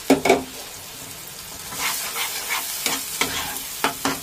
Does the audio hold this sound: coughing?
no